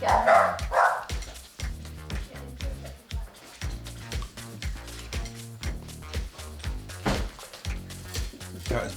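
A dog barks repeatedly in a kitchen, steady rhythmic woofs close by throughout, mixed with people talking.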